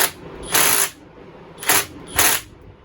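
Close ratcheting clicks from tightening the clamp on an Echo SHC 225S hedge trimmer, in three short bursts with brief pauses between, no talking.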